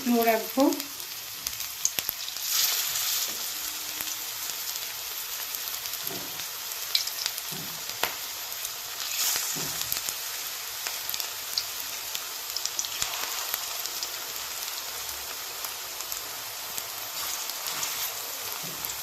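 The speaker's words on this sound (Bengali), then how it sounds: "তেলটা গরম হয়ে গেছে আমি একদম সুন্দর করে সাইজ করে ছোটো ছোটো করে বড়াতে দেব" Small drumstick flower fritters made with gram flour and green chilli sizzle steadily in hot oil on a low gas flame, a continuous close frying crackle with a few stirring and placing sounds near the start.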